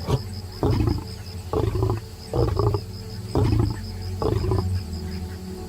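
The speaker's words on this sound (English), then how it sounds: "there is a predator whose roar is the sound of thunder" A lion roars in a series of about five deep, heavy grunting bursts at a steady rhythm, loud and close, with a faint steady high tone running underneath.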